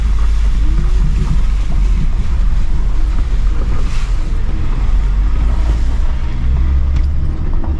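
Tamor river seen from a hill road on a trip toward Pathibhara in eastern Nepal, heard as a loud, steady rush of flowing water mixed with heavy wind buffeting the microphone throughout, with no talking.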